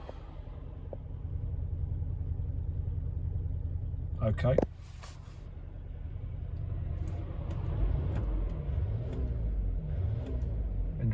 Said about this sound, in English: Engine driving okay.